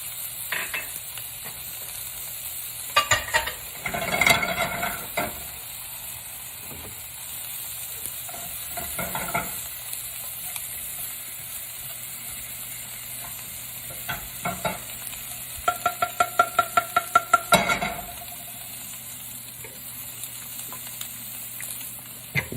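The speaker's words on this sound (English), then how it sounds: "you don't see that oil kind of sizzling right next to your vegetables or your shallots and your garlic and or ginger" Shallot and ginger sizzle in a little oil in a pan, a quiet steady frying hiss broken by several bursts of stirring and scraping against the pan, no voices.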